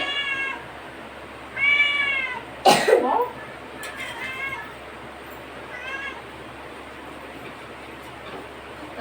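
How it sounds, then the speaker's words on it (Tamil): A cat meows several times nearby, short repeated calls drawn by the smell of cooking egg, with a sharp clatter in between and faint kitchen background. "எங்க சிம்பா வந்துருவாரு எல்லாத்துக்கும் முட்டை வாசனை அடிக்குது"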